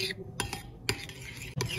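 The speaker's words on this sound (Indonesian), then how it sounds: "Selanjutnya aduk hingga tercampur merata." A spoon stirs snack batter in a bowl after sweetened condensed milk and a pinch of salt go in. Quick clinks and scrapes sound close up against a soft background hum, with no talking.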